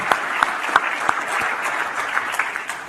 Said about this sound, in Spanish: Un aplauso para Blanca, una verdadera luchadora que nos mueve a buscar un país mejor